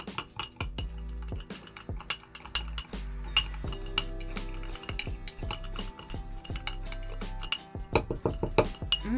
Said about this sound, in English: And now you just stir.